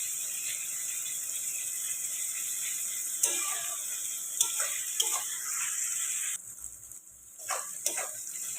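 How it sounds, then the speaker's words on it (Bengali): Onions sizzle in a pan in a steady bright hiss, with a few stirring knocks and scrapes along the way, close and moderately loud; the sizzle briefly dips before picking up again. "পেঁয়াজটা ভাজা হচ্ছে"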